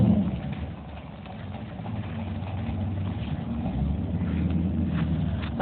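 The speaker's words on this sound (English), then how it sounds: "That's your stepmom driving the little truck" A Mopar 383 V8 in a shop truck drives steadily nearby, its low engine drone holding through the clip and swelling slightly toward the end as it gets gas.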